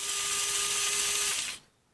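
Kobalt 4V Max 1/4-inch cordless electric screwdriver running freely, a close, steady high-pitched motor whir with a gear buzz, held for about a second and a half before spinning down and stopping.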